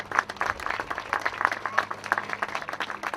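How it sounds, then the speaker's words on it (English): A small crowd gives scattered, light clapping for the color guard at a youth baseball opening day ceremony, a quiet patter of separate handclaps heard from a short distance. "Round of applause for them."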